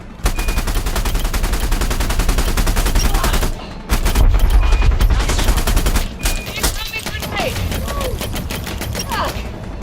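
Space combat in Elite: Dangerous, with dense, rapid weapon fire running almost continuously and loud, broken by a brief lull and a few short gaps, with a radio voice speaking over the shooting.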